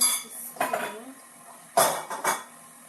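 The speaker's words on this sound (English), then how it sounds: "Excuse me, dishes." Dishes, pots and cutlery clatter in a home kitchen while potato soup and dinner rolls are being made, with a scattering of clinks and two sharper bursts of clanking up close.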